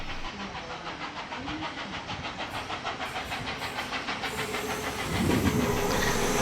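Locomotive 5917 running through Alloa in New South Wales, a rhythmic chuffing exhaust beat with hissing steam that grows louder near the end.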